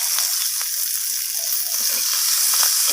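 Egg curry with slit green chillies and coriander leaves frying in a pan, giving a loud, steady close-up sizzle with faint stirring scrapes and no voices.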